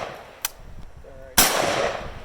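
A single loud, close gunshot from an East German AK rifle fired into meat bursts out after a quiet stretch with a faint click and a brief murmur, then rings and decays.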